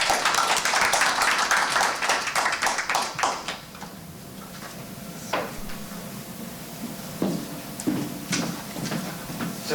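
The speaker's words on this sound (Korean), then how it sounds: "박수로 모시겠습니다." Audience clapping greets a speaker at a conference session, dense, loud applause for roughly three and a half seconds, then a few scattered claps and light room noise.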